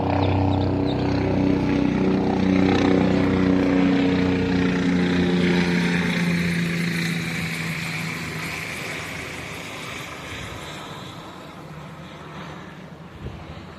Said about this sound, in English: Sound like a helicopter.